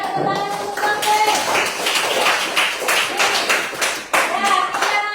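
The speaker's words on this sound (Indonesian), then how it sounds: "tepuk tangan untuk Mikail" Children applaud in a classroom during a teaching session, a loose, uneven patter of individual hand claps close by, with separate sharp slaps standing out, dipping briefly before a final flurry.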